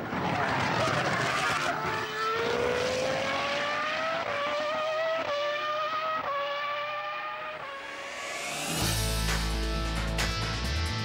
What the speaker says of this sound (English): Drivers got the second of 36 races in the championship off to a clean start as they roared round the first turn.